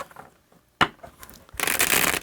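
A deck of tarot cards is handled nearby: a sharp snap of cards, a few soft riffling flicks, then a dense, loud cascade of shuffling cards closing out the sequence.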